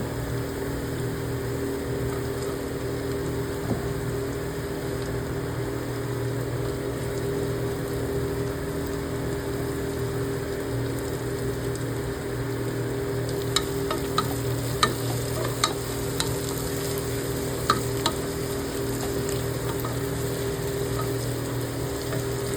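Tomatoes go into a hot pan of khichdi base, giving a steady, even sizzle throughout with a few sharp spatters and stirring clicks later on, and no voices.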